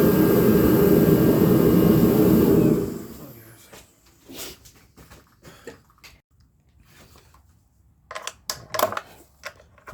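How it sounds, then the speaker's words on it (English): A torpedo heater roars loudly for a few seconds in an auto repair setting, then cuts off, leaving scattered clatter and bursts of talk. "Torpedo heater, come on."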